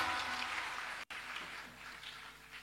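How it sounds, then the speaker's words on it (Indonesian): Applause from a church audience at a pastor's sermon, a faint, distant wash of clapping that runs for a couple of seconds and breaks off briefly in the middle. "Beri tepuk tangan yang meriah begitu"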